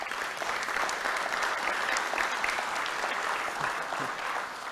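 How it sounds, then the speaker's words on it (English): A room of attendees at a Rotary club meeting gives a steady round of applause for a sponsoring market, dense clapping that holds evenly throughout with no talk over it. "So a round of applause, if you would, for Walt Churchill's Market."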